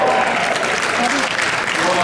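An audience breaks into sustained, loud applause, a dense wash of clapping that holds steady throughout with faint voices mixed in.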